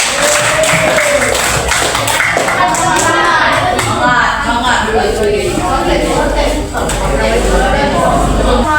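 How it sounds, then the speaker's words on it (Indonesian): Classroom applause rattles on continuously as students clap together, a busy, close patter while voices and children's chatter carry on over the top. "Sekali lagi tepuk tangan."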